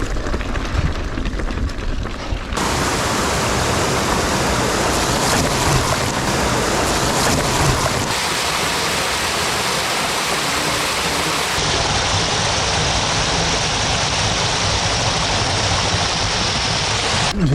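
Loud, steady broadband rush of falling water from a waterfall along a forest trail near Nelson, continuous and close throughout, with no voices.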